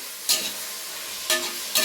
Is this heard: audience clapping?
no